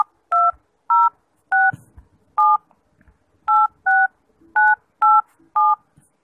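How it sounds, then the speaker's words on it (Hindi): A run of nine short dual-tone keypad beeps from a phone calling app as a number is typed, spaced unevenly with brief pauses, close and clear with no talking. "चलिए मैं अपना नंबर टाइप कर देता हूँ"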